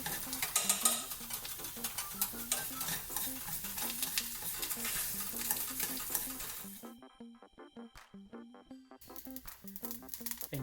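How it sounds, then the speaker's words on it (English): Quinoa seeds toasting in a dry pan, with continuous close crackling and popping plus some stirring scrapes, steady throughout and thinning out toward the end. "And you can also hear the seeds popping"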